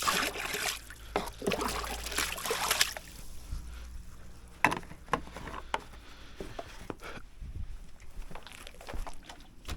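Water trickles and splashes for a few seconds, then fades to intermittent dribbles and small clunks, close by with no talking, as water is added to K Rend silicone render.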